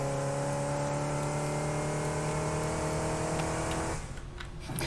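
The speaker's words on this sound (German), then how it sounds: "Ich frage mich, wo das Auto jetzt hinfährt." A car driving in the factory-building video game Satisfactory, with a steady droning engine hum and layered tonal whine that holds constant before dropping away abruptly near the end.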